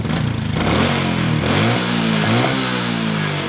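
A Honda Karisma motorcycle engine revs loudly and steadily as the throttle is raised after a carburetor air-screw adjustment, its harmonic pitch climbing and dipping through several close rises with no talk over it.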